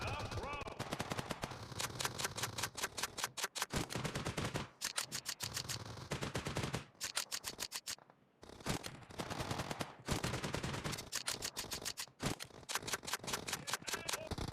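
A SPAS-12 shotgun in PUBG Mobile fires repeatedly in loud, sharp bursts, broken by short pauses for mechanical reloading clicks, all close and in the foreground.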